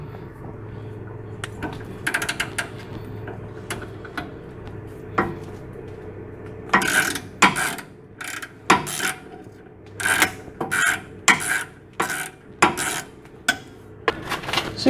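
Ratchet loosening the nut on a car's tie rod end, heard as a series of sharp metallic clicks and clacks in uneven bursts, close and fairly loud over a low background hum.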